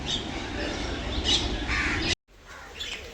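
Crows caw outdoors at a backyard feeding spot, several calls fairly close over a steady broadband background, with a brief cut to near silence just past the two-second mark.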